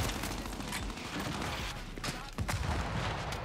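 Gunfire in the Gears 5 video game: a dense, loud burst of overlapping shots and impacts packed into a few seconds, with a sharper crack near the end.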